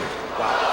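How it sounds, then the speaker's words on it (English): Crowd noise rises at a bowling event in Tacoma for bowler Norm Duke, a brief broad swell of cheering and applause, loud and close, lasting under a second. "he'll get a healthy round of applause here in Tacoma"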